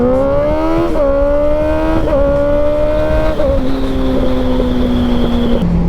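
A Kawasaki ZX-6R motorcycle is ridden hard on a public road, its engine revving high and loud close to the rider, climbing through gears in repeated surges with brief shift dips, steady wind noise underneath.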